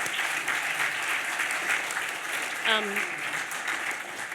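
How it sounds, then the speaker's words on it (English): An audience at an Auckland panel discussion gives the panellists steady, moderately loud applause that holds throughout, with a brief voice-like tone cutting in near the middle. "a massive round of applause for our panellists"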